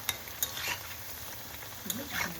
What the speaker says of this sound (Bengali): উল্টে পাল্টে চপগুলি ভালো করে ভেজে নিচ্ছি।